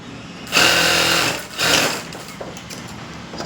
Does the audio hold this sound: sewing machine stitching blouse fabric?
yes